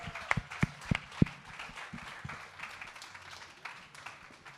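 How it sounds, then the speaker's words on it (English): Applause for a live panel at a retail pop-up event, opening with a few sharp, close individual claps and settling into a thin, scattered patter from a small crowd. "Give applause, please."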